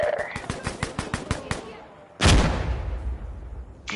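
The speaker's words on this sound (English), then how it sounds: "That's a lot of bullets just to get one man." Heavy automatic gunfire in Insurgency: Sandstorm, a rapid burst of about ten sharp shots followed by a loud booming blast that rumbles and fades, with voices talking over parts of it.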